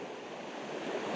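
Sea waves wash against the shore at Yalta on an October morning, a close, continuous surf hiss with some wind noise, swelling slightly toward the end, with no talking.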